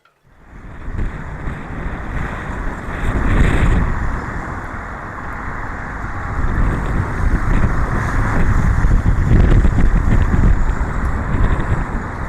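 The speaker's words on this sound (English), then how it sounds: "There's all this wind out there that's causing a problem." Strong wind roars around the Caribbean Princess cruise ship departing port, a loud steady rush of wind buffeting the microphone that swells and eases but never stops, with no voices.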